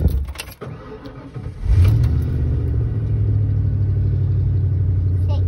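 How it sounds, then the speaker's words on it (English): A 1994 Ford F-150 with the 5.0 V8 cranking and catching, a short clattering starter burst then a loud rising roar that settles into a steady, close idle rumble. "I'm gonna fire her up here in a second and see if it's still throwing the code."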